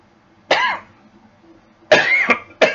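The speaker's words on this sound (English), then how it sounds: "as soon as I start to talk, I start to cough" A man coughs in two clear bursts with a short gap between them, close to the mic and fairly loud, with no talking in between.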